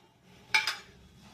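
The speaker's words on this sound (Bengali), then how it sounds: "আমার মাছ ভাপানোটা হয়ে গেছে, আমি একটু খুলে নিচ্ছি।" The metal lid of a tiffin carrier holding steamed tangra fish with poppy seed is lifted off, giving two quick clinks close by in a quiet kitchen.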